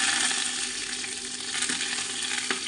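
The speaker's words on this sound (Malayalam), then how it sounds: "ഇനി ഇതിലേക്ക് കറിവേപ്പില കൂടി ചേർത്ത് കൊടുക്കാം" Curry leaves crackle and sizzle in hot oil with dried red chillies, making a dense, continuous close frying hiss with a few sharp pops.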